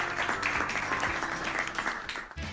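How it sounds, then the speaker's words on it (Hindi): Clapping for Rani, Raja and Daddu in a Hindi/Urdu kids' cartoon, a dense run of hand claps at a steady loud level, close and continuous, briefly dipping near the end. "सब ने रानी और राजा और दद्दू के लिए तालियां बजाई"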